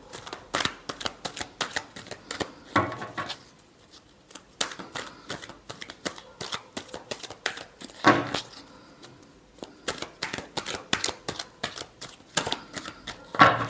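Tarot cards are shuffled repeatedly in short, crisp riffling bursts with brief pauses between them, close and fairly quiet throughout, with no voices.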